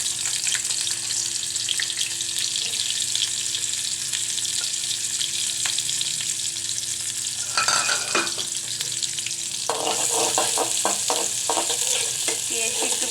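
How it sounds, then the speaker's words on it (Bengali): Chopped onions hit hot oil in a pot and fry with a steady broadband sizzle, with a louder burst of crackling and a few stirring scrapes partway through; no one talks. "তেল গরম হয়ে গেছে, দিয়ে দেব পেঁয়াজ কুচি।"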